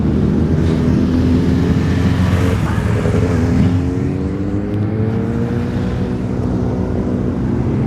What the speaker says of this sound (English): that bike I just filmed there, a red bike with number 23